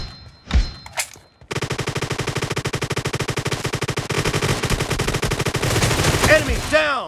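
Sustained rapid automatic gunfire in the battle royale game PUBG, loud and close, preceded by a couple of single thumps, with dense bursts continuing without pause and rising in intensity toward the end.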